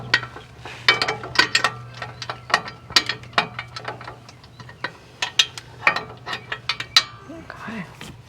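A socket wrench with a short extension and shallow socket ratchets on skid plate bolts on a Ford Bronco Badlands, sharp close clicking bursts in uneven runs over a low steady hum.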